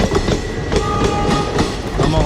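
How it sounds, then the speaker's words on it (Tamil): A train rolling along railway tracks near the trek route to Dudhsagar Waterfalls, giving a steady loud rumble with rhythmic clicking of the wheels, close by and continuous. "இதுதான் ஆக்சுவலாக ட்ரெயின்"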